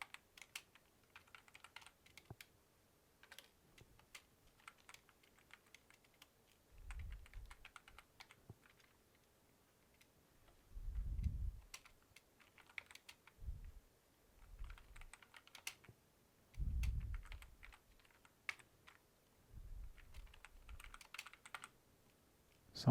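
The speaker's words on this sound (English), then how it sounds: "I'll usually type something like this." Typing on a computer keyboard comes in scattered, quiet bursts of close key clicks with short pauses between phrases, alone in a quiet room.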